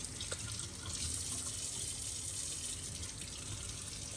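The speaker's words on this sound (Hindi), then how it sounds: "यहाँ पर मैं सैलड लीव्स को अच्छी तरह से धो लूँगी" Tap water runs steadily into a kitchen sink while salad leaves are washed, a continuous close hiss and splash with no speech.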